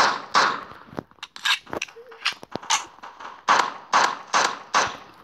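Rapid gunshots from the mobile shooter game Block Strike, a string of sharp, close bursts with a quick run of shots near the end and brief pauses between volleys.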